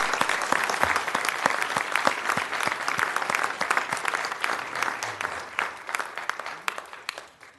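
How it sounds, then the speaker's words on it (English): At a city council meeting, an audience applauds award recipients with sustained, crisp clapping from many hands, individual claps standing out clearly before it gradually thins toward the end. "So let's give a big round of applause to these folks who are dedicated."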